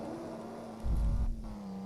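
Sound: truck accelerating in video game Truck Simulator: Ultimate

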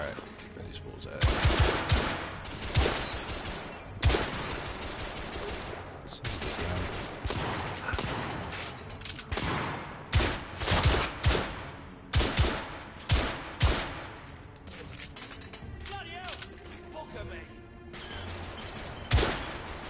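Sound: gunfire from the video game The Order: 1886

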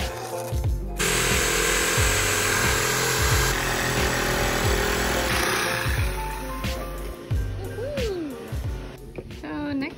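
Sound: power tool cutting plywood into a circle

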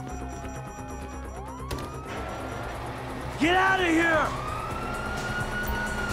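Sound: police sirens in a video game

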